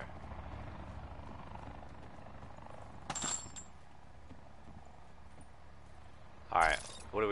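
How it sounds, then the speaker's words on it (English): Helicopter in Call of Duty Blackout, a low rotor drone running steadily in the background, with a few sharp game clicks and noises over it, no speech. "Helicopter sure making everything loud out there."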